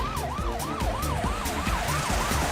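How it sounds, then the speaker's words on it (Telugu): A cartoon ambulance siren wails in a steady rising and falling cycle, loud and continuous, with road traffic rumbling underneath and no voices. "అదిగో చూడండి అంబులెన్స్"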